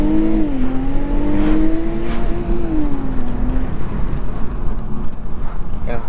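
2021 Infiniti Q50 Red Sport 400 accelerating hard in first gear, engine note climbing steadily in pitch as it revs, loud and close from inside the cabin, then holding near the top before easing off.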